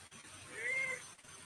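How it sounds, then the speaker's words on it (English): A short, quiet meow rises and falls once over a faint background hum. "Yes, meow, meow. I'm sure they hear you too."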